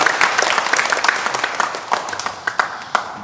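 A church congregation at a Korean Sunday service claps in praise to God, a short burst of quick hand claps with a few sharp louder strikes standing out near the end.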